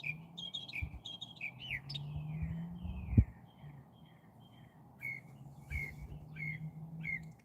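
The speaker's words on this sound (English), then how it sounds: "It's all the birds calling." Several birds call and chirp outdoors, with repeated high tweets scattered across the clip over a low background rumble and a single sharp thump near the middle.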